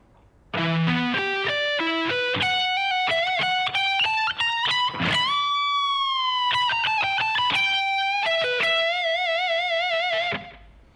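A distorted electric guitar plays a slow lick, sustained bent notes ringing out one after another with a clear, upfront tone and no talking.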